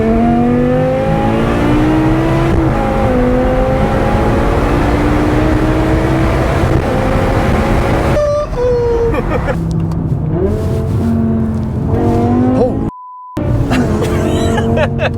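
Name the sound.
BMW M6 V10 engine exhaust revving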